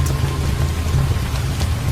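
Steady rain pours on the jungle of Banco National Park in Abidjan, Côte d'Ivoire, drumming continuously on a car with a deep low rumble, close and even throughout, with no voices.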